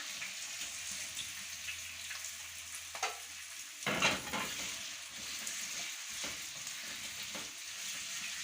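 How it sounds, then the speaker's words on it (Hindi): Potatoes fry in heated oil for a butter potato handi, a steady broadband sizzle running throughout with a couple of louder bursts as pieces are added or stirred around the pan. "आलूओं को ऑयल में आपने अच्छी तरह भूनना है"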